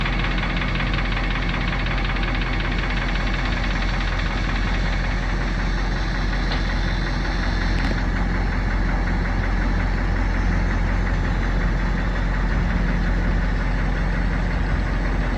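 A fire truck engine running at a steady, loud idle with a constant low rumble and a knocking vibration throughout, unbroken for the whole stretch.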